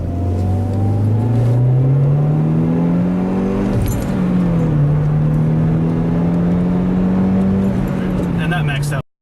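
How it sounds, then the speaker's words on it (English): A 2013 Hyundai Genesis Coupe pulls hard in second gear, its engine note climbing steadily, dipping at a shift and rising again into third. It is loud and close throughout, with no voices over it. "we'll get a little bit of a second gear pull and then kind of into third."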